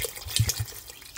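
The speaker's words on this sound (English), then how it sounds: "I'm going to add some more water" Water poured into a big pot of homemade turkey soup, a brief splashing gurgle of liquid, close and fairly soft, with no talking.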